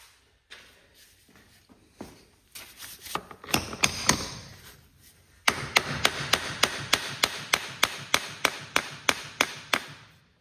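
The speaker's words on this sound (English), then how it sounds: "And get a hammer to tap that out." A hammer taps a through bolt out of a Cub Cadet Delco starter generator, first in scattered knocks, then in a steady, quick run of sharp, evenly spaced strikes on metal, close and fairly loud.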